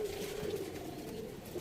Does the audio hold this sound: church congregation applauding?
no